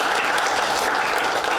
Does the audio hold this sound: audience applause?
yes